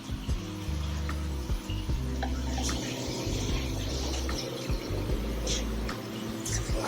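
Aquarium water poured and dumped through a net to catch fish, a continuous splashing, gurgling flow with small bursts, close and fairly steady, with no talking.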